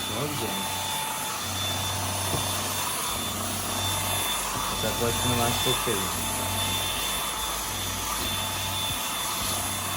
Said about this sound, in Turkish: Bir defa bastığımız zaman bu makine çalıştırmış oluyoruz.